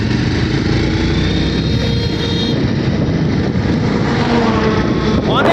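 Riding on a motorcycle, with a loud, steady engine roar blended with rushing wind noise that continues without a break throughout.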